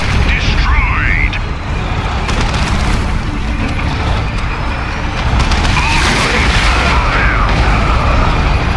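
A blast cannon in a video game tears into a building, producing loud continuous crashing and booming destruction with sharp cracks and rumbles, layered under game effects and music tones.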